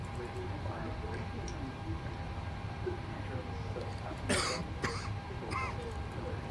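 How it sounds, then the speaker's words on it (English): A person gives a couple of short coughs and clears their throat over quiet background noise during a flight simulator radio exchange. "Sorry about the coughing and the sneezing on this thing."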